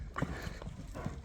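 A Kyrgyz horse walks, its hooves landing in a few soft, close clip-clops over outdoor background noise, with no voices.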